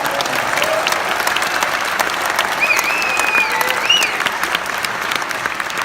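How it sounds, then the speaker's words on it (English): Loud, sustained applause fills a theater for event organizers, dense and continuous, with a few whistles and cheers piercing through the middle of the clapping. "please give a raucous round of applause for all the organizers"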